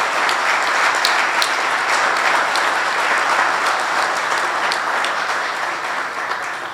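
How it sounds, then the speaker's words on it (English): A large audience applauds steadily after a ribbon cutting at the grand opening of a Veterans Affairs office at a senior center in Union County, the dense clapping loud and continuous throughout before tapering slightly at the end. "Let's have a round of applause for that."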